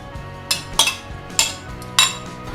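Four light metallic clinks at uneven intervals as raspberries drop into a metal saucepan, heard close and clear in a quiet room.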